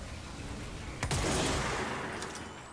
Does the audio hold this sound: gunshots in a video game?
yes